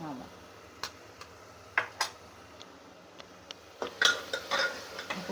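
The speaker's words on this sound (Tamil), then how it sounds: "உப்பு போட்டு நல்லா மிக்ஸ் பண்ணிக்கணும்" Metal spoon scraping and tapping against a pan while salted mutton keema is stirred, giving scattered clinks and a soft scraping rhythm, moderately close.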